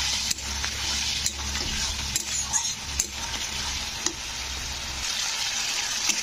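Potato pieces fry in spice paste in a pan for a bottle gourd and prawn curry, a steady close sizzle broken by sharp utensil scrapes and clacks as they are stirred, with no voices.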